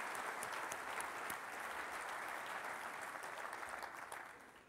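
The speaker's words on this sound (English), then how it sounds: "if you could give them a round of applause for all the work that they do" Conference audience applause at a corporate user event, a dense, even roar of clapping from a large hall that holds steady and then slowly tapers toward the end.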